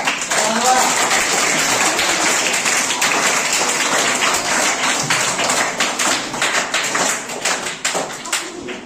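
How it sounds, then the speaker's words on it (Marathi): Sustained clapping from a quiz audience rewarding a correct answer, dense and steady throughout, thinning slightly toward the end. "टाळ्या वाजू द्या"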